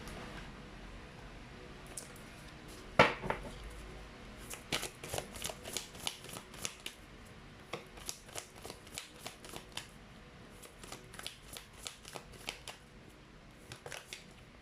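Tarot cards are shuffled and pulled from the deck, giving a sharp riffle followed by a run of quick, close flicks and soft snaps, with no talking.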